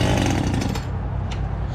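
Old chainsaw that had sat for 18 months, choke on, given a hard pull on the starter cord: a loud close rasping whir that sputters and fades within two seconds without catching.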